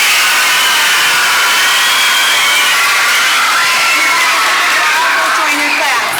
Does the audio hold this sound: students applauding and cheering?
yes